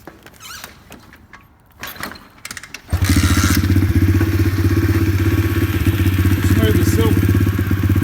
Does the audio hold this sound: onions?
no